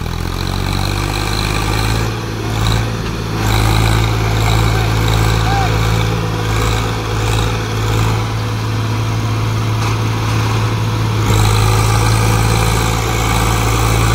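A Swaraj tractor pulls a small trolley, its engine running with a steady low rumble and chugging throb that holds for the whole stretch, with faint voices in the background.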